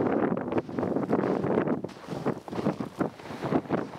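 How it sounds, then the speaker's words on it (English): Gusting wind during a January snowstorm in Ontario, Canada, roars steadily against the microphone outdoors near cedar trees and a roadway, loud and continuous with rising and falling surges and no talking. "It's starting to get a little windier out again."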